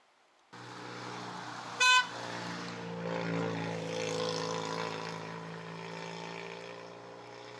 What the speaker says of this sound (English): you can't drive here without a horn